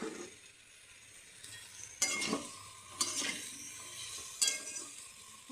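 Tomato and vegetables with cauliflower fry in a pan, a faint soft sizzle punctuated by a few sharp clinks and scrapes of a utensil against the pan.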